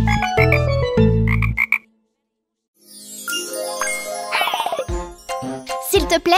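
Speckled green frogs croak in a French children's action song, giving several short, loud, deep croaks in quick succession, then a brief silence and bright tinkling musical sounds.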